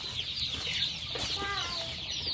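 Chickens cluck softly on a pastured poultry farm, scattered short calls sitting within a steady wash of outdoor background noise at moderate distance.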